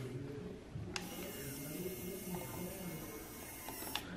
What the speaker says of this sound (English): we'll see if we can do a little demo of the winch